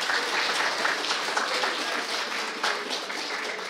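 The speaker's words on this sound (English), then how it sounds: "Let's give them a round of applause too." An audience at a university inaugural lecture claps for the professor's students, producing a sustained wash of mixed applause from a large room, fairly steady with slight swells and no talking.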